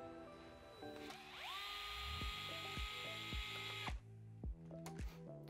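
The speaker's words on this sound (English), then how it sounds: "we'll start by just removing this screw out of our linkage rod here and removing the screw out of our servo saver" A power screwdriver backs screws out of the linkage rod and servo saver on an Axial Ryft RC truck. Its whine rises and holds for a few seconds over a steady run of ratcheting clicks, close and alone.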